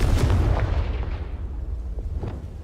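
A Confringo fire spell erupts in Hogwarts Legacy with a loud, booming blast that rumbles heavily up front, then slowly trails off over a couple of seconds.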